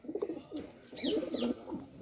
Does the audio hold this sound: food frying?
no